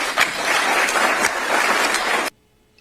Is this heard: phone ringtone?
no